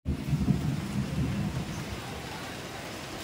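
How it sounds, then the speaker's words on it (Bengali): Light rain beginning to fall outdoors, a steady broadband hiss of drops with a low rumbling undertone, holding constant and fairly soft throughout a few seconds, with no voices. "দেখো এখন টিপ করে বৃষ্টি শুরু হয়েছে, মাঝারি, খুব বেশি নয়, হালকা হালকা।"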